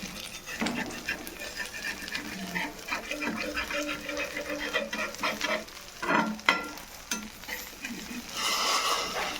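Sago thalipeeth made from leftover sabudana with crushed peanuts, chilli and potato roasting on a hot pan, a steady close sizzle and crackle running throughout with a few louder spits and scrapes near the end.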